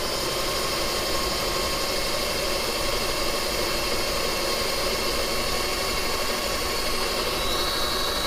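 An electric drill runs steadily at high speed on a hydraulic clutch slave cylinder job, giving a continuous, loud whirring hum with no pauses and no talk.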